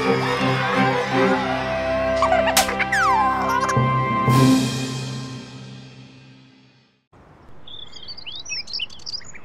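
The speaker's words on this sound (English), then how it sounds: "Birds attract Groovy's attention." Cartoon birds chirp and tweet in quick bright bursts over a dense layer of music and boinging sound effects, which drop away before a second patch of lively, higher chirping plays alone.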